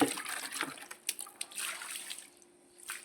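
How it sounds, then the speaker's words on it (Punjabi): Water poured onto moss-covered floor tiles during cleaning splashes and spreads in uneven bursts, fairly faint and close, with quieter trickling between the gushes. "ਲੋ ਜੀ ਤੇ ਆਪਾਂ ਪਾਣੀ ਪਾ ਕੇ ਦਿਖਾਉਨੇ ਆ"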